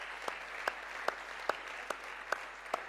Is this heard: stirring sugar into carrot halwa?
no